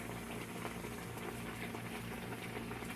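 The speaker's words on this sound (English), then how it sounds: "Oyster mushroom going in the pan." Oyster mushrooms cook in a pan, giving off a soft, steady bubbling sizzle that stays even and faint throughout, with no talking.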